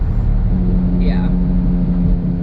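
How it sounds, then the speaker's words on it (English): A 2009 Chevy Impala driving with a worn passenger-side wheel bearing: a steady low hum and drone inside the cabin, loud and constant throughout, with a brief higher voice-like sound partway through. "It's louder when you go towards the passenger side, and so I'm pretty sure it's the passenger side wheel bearing."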